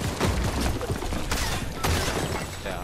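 Rapid bursts of SCAR assault rifle fire in a Fortnite-style battle royale game crackle loud and close, dense shots packed together with a couple of sharper heavy hits standing out, no talking.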